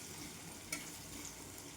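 Potato and carrot pieces fry in hot oil in a pan, a soft, steady sizzle with a brief stirring scrape partway through, quiet and close with no talking.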